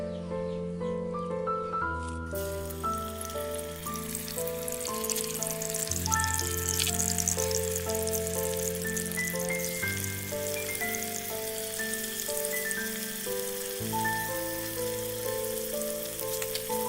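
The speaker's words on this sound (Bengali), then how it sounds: "এইবার এগুলোকে আমি ভেজে নেব।" Egg and cabbage fry in a pan with a steady, soft sizzle running the whole time, half buried under loud melodic background music.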